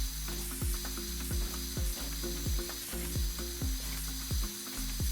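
A pressure washer sprays steadily in Power Wash Simulator, on a Shrek-themed fairy godmother factory job, with a constant hiss and a repeating series of quick descending mechanical tones.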